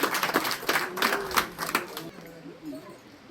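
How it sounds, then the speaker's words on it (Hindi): Applause welcoming a speaker at a Yagya Anushthan Sabha gathering at Brahmghat, with brisk clapping from a crowd for about two seconds that then thins out, mixed with a voice. "ताली से इनका स्वागत करें।"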